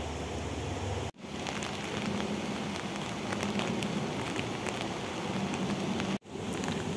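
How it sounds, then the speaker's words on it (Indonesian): Light drizzle falls during a hike at Ngau Wu Reservoir in Wu Kai Sha, Hong Kong, with an umbrella in use. It makes a steady, even hiss of rain throughout, with no talking. "Ini hujan gerimis sih"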